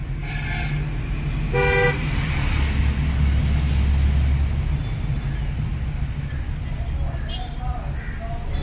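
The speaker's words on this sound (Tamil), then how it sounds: "அங்கே எவ்வளோ தான் ஹார்ன் அடிக்கிறது" Car horns honk in short bursts over loud engine rumble of heavy traffic on a road trip from Chennai to Kodaikanal, with voices talking faintly underneath.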